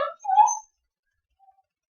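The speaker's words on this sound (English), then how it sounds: "It was the puppy." A puppy lets out one short, whiny yelp, fairly close and clear, followed by near silence.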